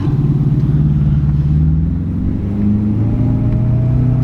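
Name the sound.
Porsche Panamera Turbo new exhaust revving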